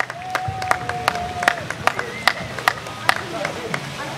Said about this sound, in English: please, give a round of applause for the San Dimas Jazz Workshop Ensemble